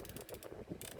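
Ratcheted shoulder joint on a Transformers Age of the Primes Silverbolt toy produces a quick series of small plastic clicks and grinding ratchet sounds over about a second, close to the microphone, with no talk.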